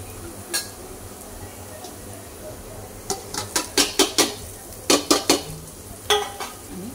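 Masala stirred into roasted onions in a pan, heard as a series of sharp metallic scrapes and clinks of a spoon against the pan in quick bursts, over a faint background sizzle, close up.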